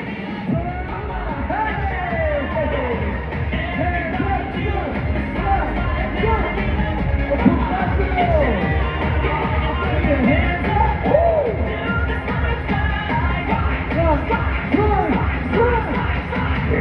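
A big indoor crowd at a Slime Time show in the Nickelodeon Universe theme park at American Dream Mall screams and yells continuously, a loud, sustained roar of overlapping voices.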